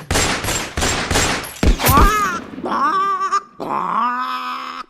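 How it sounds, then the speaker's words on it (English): A rapid volley of sharp gunshots rings out, then gives way to high, wavering whines and wails. "I heard gunshots."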